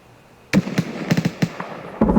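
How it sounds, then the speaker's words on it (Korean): A grenade goes off in the Escape from Tarkov video game, a sudden sharp blast followed by a rapid cluster of crackling pops and another burst near the end, fairly loud against a quiet background. "수류탄!"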